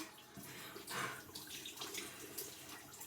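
A tap runs into a sink or tub while hair is being dyed, a faint continuous splashing rush with small surges, heard alone at low volume.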